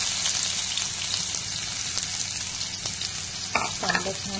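Onion frying in hot oil in a kadhai while making palak paneer, a soft, steady sizzle close by, with a couple of brief clinks near the end and no talking.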